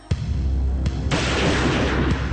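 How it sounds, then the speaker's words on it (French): Two sharp gunshot cracks a moment apart, followed by a loud, sustained roar of noise. "2 coups de feu"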